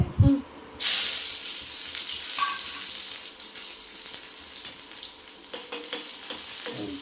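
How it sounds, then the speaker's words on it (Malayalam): A sharp burst of sizzling as shallots and curry leaves hit hot coconut oil, settling into a steady fry with scattered crackles and a few clinks. "കുറച്ച് വെളിച്ചെണ്ണ ചെറിയ ഉള്ളി കറിവേപ്പിലൊക്കെ ഇട്ടിട്ടോ"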